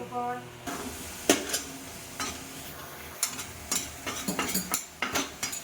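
Food fries in refined oil while a spoon scrapes and clatters against the pan, irregular stirring knocks over a soft background sizzle, close and fairly quiet.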